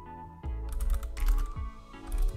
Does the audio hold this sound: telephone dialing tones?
no